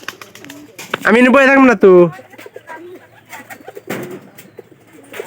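Pet pigeons in a coop coo with low throaty calls, mixed with someone talking nearby.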